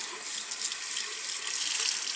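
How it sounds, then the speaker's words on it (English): A sink tap runs steadily at a handwashing basin, giving a continuous bright hiss of flowing water that stays even and close throughout, with no voices. "Turn on the water."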